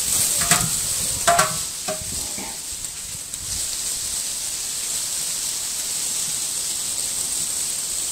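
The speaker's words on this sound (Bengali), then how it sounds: "আর পেঁয়াজটা এখন তেলের উপরে খুব ভালো করে ভেজে নেওয়া হবে।" Two kilograms of onions frying in oil in a large cooking pot, a few stirring knocks early on, then a steady, fairly soft sizzling hiss that continues alone.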